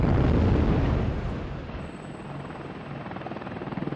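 Apache two-man attack helicopter: a loud, close rotor roar that swells at first, then settles into a steady, rhythmic blade chop that grows slightly toward the end, with no talking.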